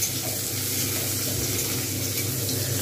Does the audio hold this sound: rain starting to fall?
no